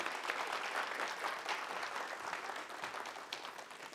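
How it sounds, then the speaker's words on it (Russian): A TV studio audience applauds steadily at a lottery broadcast, dense even clapping from many hands heard at a distance and fairly quiet throughout. "И вам аплодирует студия."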